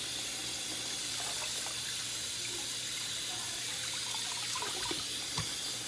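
Kitchen tap running steadily into a sink while fish is cleaned for brown stew fish, a continuous hissing splash of water with faint clinks, fairly quiet and alone.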